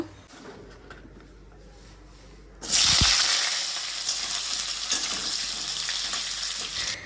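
Pointed gourd hits hot oil and breaks into a loud, steady sizzle that fills the second half, after a quieter opening of faint kitchen noise.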